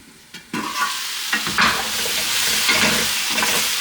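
Butternut squash and apple sausage pasta sauce stirred in a pan, with steady sizzling and repeated scraping strokes of the spoon, close and fairly loud throughout, no voices.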